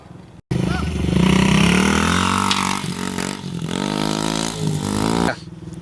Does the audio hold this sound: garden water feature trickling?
no